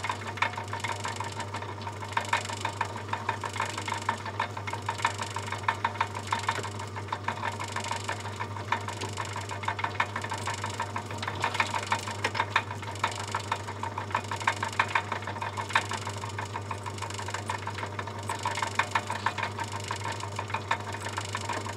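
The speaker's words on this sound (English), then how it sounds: "I'm just going to put the thread on now, but I'm having to do this manually with my die holder." Hand die holder cutting a thread on a 5-inch steam locomotive boiler stay or rivet, worked dry without lubricant, heard as a steady close mechanical churning with faint rhythmic ticks over a constant low hum.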